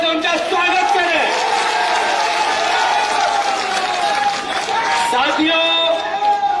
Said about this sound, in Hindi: जरा कमलनाथ जी के लिए जोरदार तालियों से उनका स्वागत करें